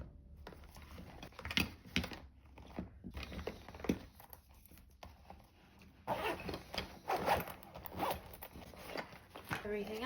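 Quick zipping of a quart-size Ziploc bag of liquids, with crinkly plastic rustling and handling noises close by, several short bursts spread across the clip; a person talks at times.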